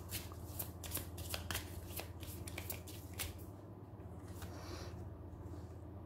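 Tarot cards shuffled close up in a run of rapid, crisp riffling bursts, with a quieter soft rustle toward the end and no talking.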